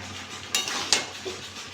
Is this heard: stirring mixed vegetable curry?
yes